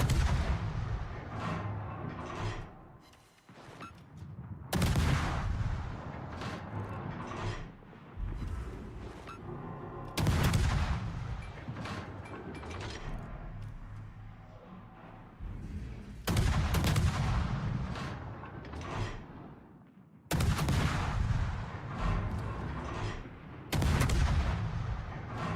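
Naval guns boom again and again in World of Warships, heavy salvos landing in clusters every few seconds with deep rumbling tails between them and no talk over the shots.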